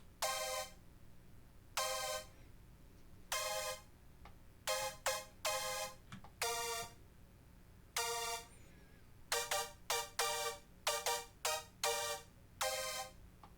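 Brass section from a music track played dry with no effect, a short harmonic phrase repeated in bursts: sustained stabs, then clusters of quick staccato hits, loud and close over a faint low hum.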